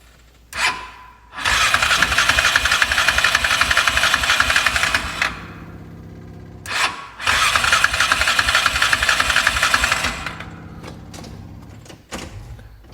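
A Magnum machine's engine with a newly replaced OEM ignition starts and runs in two loud, rough bursts of several seconds each, separated by a short pause, close by in a shop.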